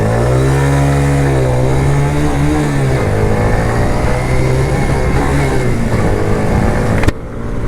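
A Suzuki Marauder motorcycle, about 20 years old with 12 horsepower and a new carburetor, revs close by and pulls away, its engine note rising and falling through the gears. A sharp bump near the end cuts the sound off.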